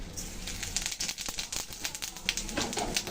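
Dried red chilli, bay leaf and whole cumin sizzle in hot oil for tempering, giving a faint, steady crackle of small pops and spits with no voices.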